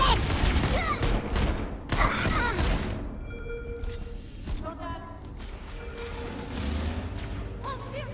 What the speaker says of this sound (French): On tire dessus.